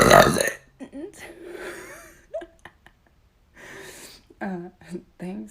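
A run of loud, close burps, several in a row with uneven gaps between them, standing alone without talk.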